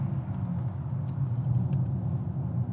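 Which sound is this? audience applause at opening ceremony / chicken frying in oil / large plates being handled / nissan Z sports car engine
nissan Z sports car engine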